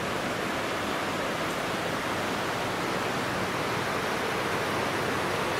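A river flows steadily on a countryside walk, a broad, even rush of water holding constant and fairly loud throughout with no voices over it.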